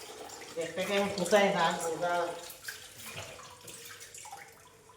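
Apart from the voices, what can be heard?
water running while washing fish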